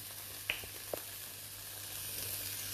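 Tofu frying in a hot wok, a faint steady sizzle with a couple of soft clicks of a utensil near the start, no voices.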